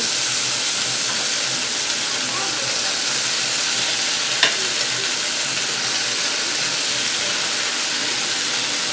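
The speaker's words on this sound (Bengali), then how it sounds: "এবার এখানে যে আমি সাবুটা ভিজিয়ে রেখেছিলাম এবার সাবুগুলো এর ভেতরে দিয়ে দেব" Spices sizzling in a pan while soaked sago is added, a loud, dense, steady hiss that fills the whole stretch, with one faint clink midway and no talking.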